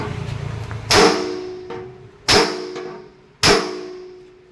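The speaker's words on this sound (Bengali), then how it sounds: "দেখুন মেশিন হয়েই চলেছে।" A batasa sugar candy making machine runs with three loud metallic clangs, spaced about a second and a half apart, over a steady mechanical hum, with no talking.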